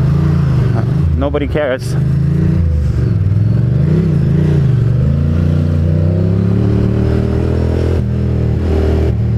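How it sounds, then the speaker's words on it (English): A motorcycle engine drones steadily while riding through New York City traffic, loud and close with rising and falling revs, as someone talks briefly over it. "I like the way my bike sounds"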